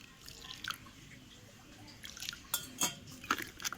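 Water being added to dough while it is mixed by hand: faint drips and soft wet splashes, then a few louder clinks and slaps toward the end, close and quiet.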